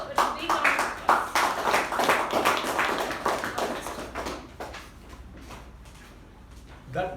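An audience at a Toastmasters meeting claps to welcome a speaker, a burst of dense, fairly close applause that thins out and fades over a few seconds.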